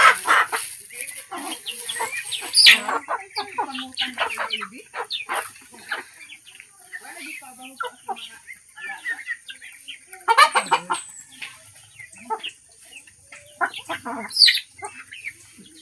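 Chickens cluck steadily while being fed on a rural Philippine farm, a busy mix of near and farther birds with a few louder squawks and cries rising above the flock.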